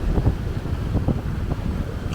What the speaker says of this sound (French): là on est à 6 nœuds, il y a 20 nœuds de vent